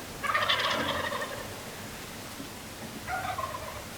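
Wild turkey gobbling outdoors: one long rattling gobble near the start and a second, shorter gobble near the end, moderately near and clear over a quiet natural background.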